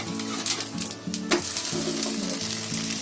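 Sabudana snack sizzling in a pan on high heat, a steady frying hiss broken by a few soft scraping clinks as it is flipped, close and continuous with no talk.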